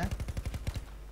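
A rapid burst of video game gunfire, about eight close, evenly spaced shots fired in under a second before a faint tail.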